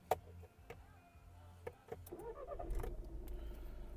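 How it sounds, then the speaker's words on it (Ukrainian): A 2011 Volkswagen Golf VI GTD's 2.0 TDI engine cranks and catches via push-button start, settling into a steady low diesel idle after a few faint clicks from the cabin. "Запускаємо двигун."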